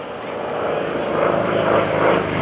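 An SBC Helldiver warbird with a 1,700 horsepower Wright radial engine flies past at an airshow, its propeller drone a steady, loud roar that swells slightly throughout.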